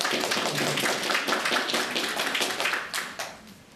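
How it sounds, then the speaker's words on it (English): Wedding guests at St George's Hall in Liverpool clapping for a member of the party, a steady crowd of hands applauding at moderate volume that tapers off near the end. "Should we give Duncan a round of applause?"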